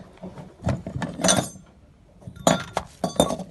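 Old lenses removed from an Audi A3 headlight clink against each other and a hard surface in a workshop, with scattered short glassy knocks in two separate clusters.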